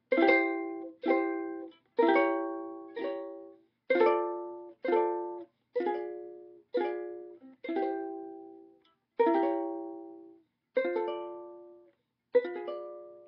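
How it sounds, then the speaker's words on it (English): A sequence of strummed ukulele chords in a progression with diminished chord substitutions, each ringing out and decaying before the next, at an even, unhurried pace. "So that progression now with the diminished substitutions sounds like this."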